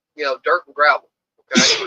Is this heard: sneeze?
yes